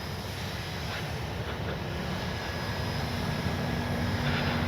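A Dynam DHC Beaver V2 radio-controlled model plane flies on its maiden flight, a steady electric motor drone heard from a distance under wind noise, constant in level throughout.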